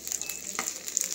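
Small omena (dagaa) fish fry in plenty of cooking oil, a close, steady sizzle with a brief scrape of stirring partway through.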